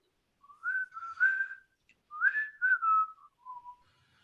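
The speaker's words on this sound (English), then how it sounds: "soon we hear an almost unearthly laughing sound, followed by familiar whistling" A familiar tune is whistled by a person in two clear, wavering phrases separated by a short pause, with a lower closing note, close and clean against silence.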